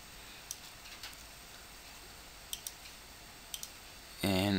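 Computer mouse clicking while working in CorelDraw, a few sharp, quiet clicks spaced irregularly, some in quick pairs, close up in a quiet room, with a voice starting to speak at the very end.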